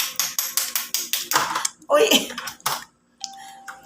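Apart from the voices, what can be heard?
pounding crab claws to crack them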